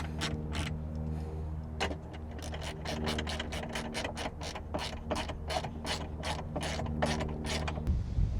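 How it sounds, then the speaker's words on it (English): A 7/16 ratchet tightens bolts into riv nuts during a seat delete install on a 4th gen Toyota Tacoma, giving steady close-up rapid clicking in bursts over a mechanical hum, with no talk. "Then you'll take your 7/16 ratchet again and just tighten those down into place there."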